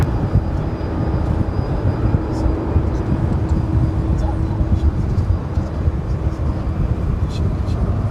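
A Frontier Airlines A321 airliner at Dallas DFW airport, heard as a steady, broadband jet engine roar that holds at a constant level without clear rise or fade, with faint talk and radio chatter underneath.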